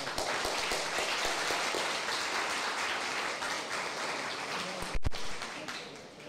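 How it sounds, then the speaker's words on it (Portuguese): An audience at a congress claps in steady, moderately distant applause that fills the whole stretch, with a brief sharp knock near the end. "Uma salva de palmas."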